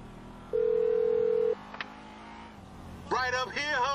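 A phone on speakerphone in GTA V plays a single steady dial tone for about a second, followed by a brief beep, over a car engine's hum in first-person driving, with a voice coming in near the end.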